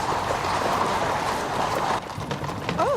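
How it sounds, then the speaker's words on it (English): Horse hooves clip-clop along a street in the time of Napoleon, a steady fairly close trot under street ambience, then a quieter passage with a short high tone at the end. "Nice horse."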